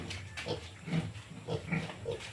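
Pigs on a Philippine farm where sows are kept grunt and oink in short, repeated snorts at close range, several calls overlapping in an irregular rhythm with no talking.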